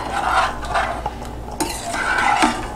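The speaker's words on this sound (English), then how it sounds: "So let's stir it up." A spoon or ladle stirs mulled wine (Glühwein) in a metal pot, producing close, clear scrapes and clinks against the sides in a few uneven sweeps.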